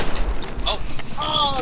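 Gunfire from the video game Battlefield 4 cracks in short bursts, mixed with a voice and other game sounds.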